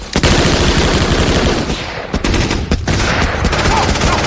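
Dense, loud machine gun fire rattles almost without pause through a battle scene in the 1998 war film Saving Private Ryan, with sharp cracks layered over the continuous bursts.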